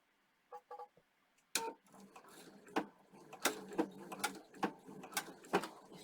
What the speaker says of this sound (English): I'm just going to sew the first few stitches.